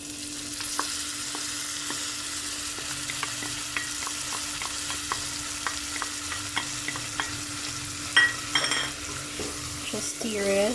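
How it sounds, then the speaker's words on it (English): Tomatoes stirred and frying in a pan for pav bhaji, with a constant low sizzle and regular light taps and scrapes of a spoon against the pan, growing busier near the end. "Just stir it, and then we will just fry it until our tomatoes turn soft and mushy"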